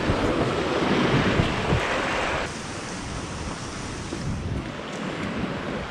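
A river flows beneath a local-built hanging bridge in Mazeok Forest, North Bengal, a steady broadband rush of water close by, with wind buffeting the microphone and the level dropping slightly midway.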